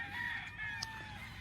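Chickens and a rooster on a farm in the Philippines, with a crowing call held steady through most of the second and a brief sharp cluck near the end, moderately near over soft background noise.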